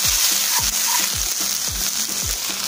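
Food with salt stirred in a hot pan for a vegetarian burrito bowl, a constant loud sizzle with regular rhythmic scrapes of a spatula, about two strokes a second, close up and without speech.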